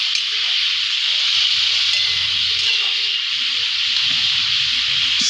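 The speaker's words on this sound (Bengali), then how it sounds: "এবার সর্ষের পেস্টটা দিয়ে দিচ্ছি। দিয়ে ভালো করে নেড়ে চেড়ে নিচ্ছি।" Mustard paste being stirred into papaya sukto in a pan, a steady bright sizzle and hiss running throughout with soft scraping stir movements and faint low kitchen rumble beneath.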